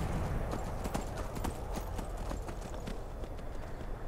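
Horse hooves clip-clopping in a steady walking rhythm, distinct repeated clops close by at a moderate level, with faint background noise and no talking over them.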